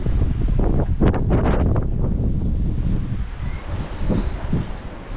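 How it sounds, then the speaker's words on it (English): Strong wind buffets the microphone in loud, rumbling gusts that rise and fall continuously, with no voices, in a palm garden in Ålesund, Norway. "It's a beautiful day, but so windy."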